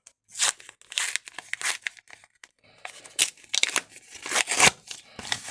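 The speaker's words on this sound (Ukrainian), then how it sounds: "давайте відкривати ось такий класний пакетик з курчатками" Paper crinkles and tears in a series of short, close bursts with brief pauses, like a packet being ripped open by hand.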